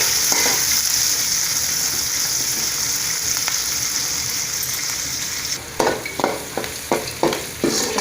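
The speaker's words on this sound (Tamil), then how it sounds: "பெரிய வெங்காயம் வந்து நல்லா வணங்கட்டும்." Large onions with curry leaves sizzling in hot oil after mustard seeds have popped, a steady frying hiss that later breaks into a run of sharp scraping stirs against the pan.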